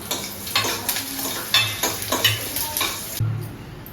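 Dried red chillies, cumin and curry leaves sizzle and crackle in hot oil for a coconut chutney tempering, with steady frying hiss and occasional stirring clinks from a pan.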